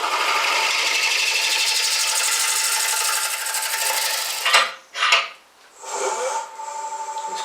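A slow wood lathe facing off the front of a spalted beech bowl, with the tool rest set low. A steady, close rasping hiss of the cut runs for several seconds, then breaks into uneven scrapes and pauses.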